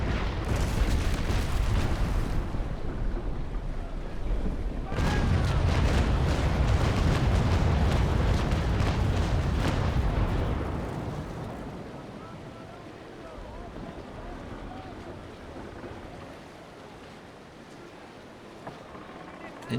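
Naval cannon fire from the Naval Action game, with the ship Ingermanland at sea, comes as heavy rumbling broadside booms over about ten seconds and then fades into softer wind and water noise.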